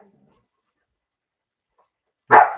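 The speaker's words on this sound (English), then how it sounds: "Man, the dog's acting nuts." A single short dog bark or yelp lands near the end of an otherwise quiet stretch at a Saturday morning skate session, fairly close and loud.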